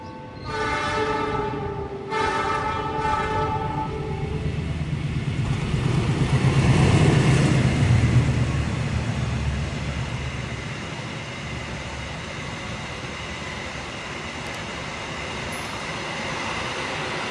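The KAC-SGU passenger train runs on the rails with a steady rumble and clatter that swells midway, then settles into a continuous hum. An opening horn blast sounds briefly at the start.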